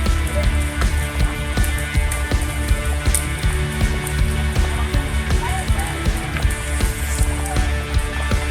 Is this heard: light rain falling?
yes